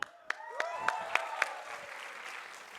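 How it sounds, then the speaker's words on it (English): An auditorium audience at a student conference applauds, with several sharp claps standing out over a steady wash of clapping and some whistle-like cheers, moderately loud and fading toward the end. "Give me a cheer, come on!"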